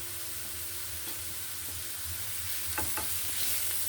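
Carrot, potato and papaya bhaji stir-frying in a pan, with a steady sizzle and hiss throughout and a few soft scraping stirs near the end, close up with no talk.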